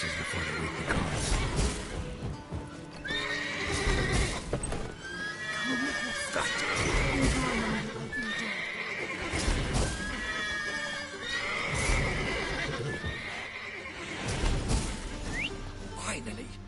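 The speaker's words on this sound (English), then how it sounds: "Gotta calm all the horses before they wake the guards." Horses in the video game The Witcher 3 neigh and whinny repeatedly, loud, shrill calls rising and falling over steady hoof clip-clops and a busy background.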